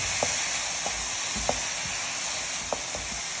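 Green cowpea beans sizzling in a pan with a little water added, a steady hiss of frying broken by several soft stirring taps and scrapes, close and moderately loud with no speech.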